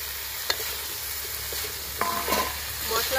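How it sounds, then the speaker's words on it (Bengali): Fried potato and cauliflower pieces tipped into cooked-down spices in hot oil, setting off a steady close sizzle, with a couple of sharp knocks as pieces land and are stirred. "এখন এই যে ভেজে রাখা আলু আর ফুলকপি একসঙ্গে দিয়ে দেব।"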